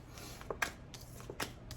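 Tarot cards being shuffled, a few soft papery riffles and light slaps arriving in short bursts, quiet and close, with nothing else heard.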